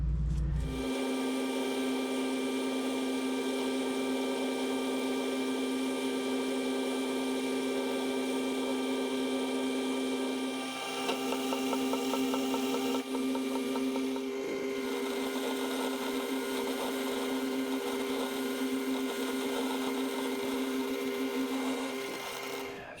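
A metal lathe runs dry with no coolant while cutting grooves in a Cummins Horton fan pulley. A steady whine with a sustained tone hums throughout, and faint scraping cutting texture surfaces midway.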